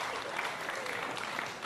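Audience applause fills a panel discussion on rebuilding France, a dense, steady wash of clapping from a sizeable crowd that holds evenly for under two seconds with no talk over it.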